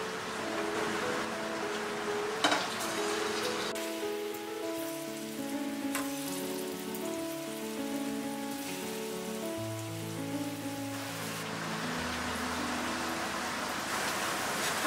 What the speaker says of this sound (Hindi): अब हम इसे शैलो फ्राई करेंगे। हमने पैन में तेल गरम कर लिया है।